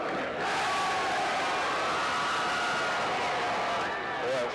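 Fans at a Doane vs. Morningside NAIA college football game cheer and shout in a dense, loud roar after the final whistle as players celebrate, a continuous crowd swell with voices blended throughout.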